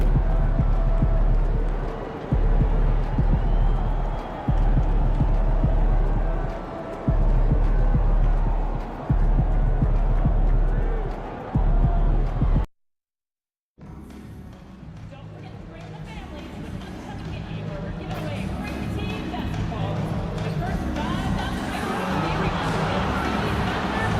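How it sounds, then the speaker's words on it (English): Basketball arena crowd noise from the video game NBA 2K25: a steady roar of spectators that carries for about twelve seconds, then cuts out briefly and returns as a busier, mixed crowd din. "Surprisingly loud crowd tonight."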